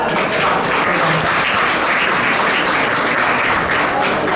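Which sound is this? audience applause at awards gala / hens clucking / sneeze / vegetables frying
audience applause at awards gala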